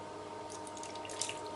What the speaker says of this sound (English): that sound is bacon grease being poured on top of bacon in preparation to be blended